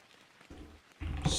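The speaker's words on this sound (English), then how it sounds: "I just wasn't on the right output for my rain sound" Rain from a background ambience track plays during a web development study session, a steady soft hiss of falling drops that swells louder partway through, with no talk over it.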